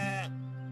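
A single brief sheep or goat bleat, a quavering nasal cry that fades quickly into a faint steady background hum, heard alone.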